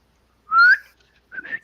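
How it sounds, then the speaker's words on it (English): A person whistles a short rising tone, then after a pause gives a second, shorter, breathier whistle, close and clear with no talk. "I would attempt to whistle"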